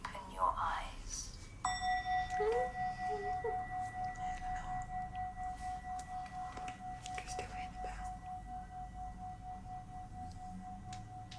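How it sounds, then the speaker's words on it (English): A single bell struck once during a guided relaxation exercise, its clear tone ringing out and slowly fading over many seconds, with faint background murmur beneath. "In a moment, the bell will ring, and when you cannot hear it anymore, you can open your eyes."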